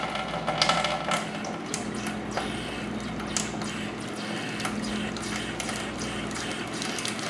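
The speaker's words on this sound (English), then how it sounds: "I can hear the air starting to come through now, which means it's getting full." Air and water gurgle and hiss through household water pipes as the system refills after a water heater drain valve replacement, a continuous rushing wash with faint clicks and knocks.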